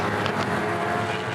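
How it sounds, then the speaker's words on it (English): A Supercars race car engine with a misfire drones at close range, a rough sustained roar with uneven pulses through a brief pass. "We're hearing a misfire out here"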